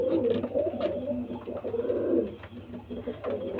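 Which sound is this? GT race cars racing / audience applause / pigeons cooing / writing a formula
pigeons cooing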